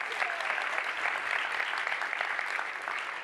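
An audience at a book talk breaks into steady, dense applause, a full room of clapping hands held at an even level for a few seconds before easing slightly.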